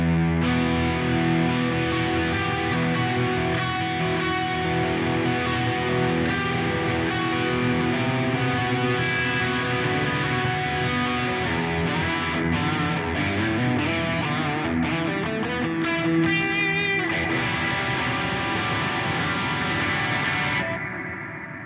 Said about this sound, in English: Let's hear that with a little bit of distortion